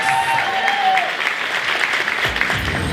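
Applause rings out at an awards ceremony honoring exceptional women of color, a steady crowd clapping for an honoree, with some brief voices mixed faintly under the sound.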